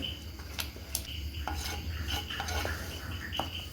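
Scraping and clinking of a utensil stirring food in a clay pot, irregular strokes up close over a low steady hum.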